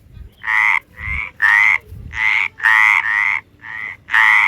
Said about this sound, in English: How does this frog manage to make such a sound, and why does it do that?